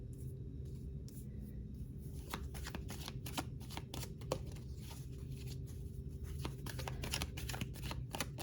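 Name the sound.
shuffling tarot cards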